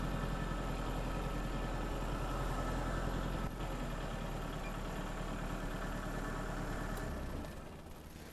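A Kubota tractor with an HST Plus transmission drives along, its engine running as a steady low drone with a brief dip midway and a slight drop in level near the end as it shifts, with no voices.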